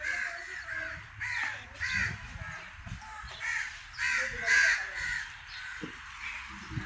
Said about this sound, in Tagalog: Ito kami sa pugad ng uwak.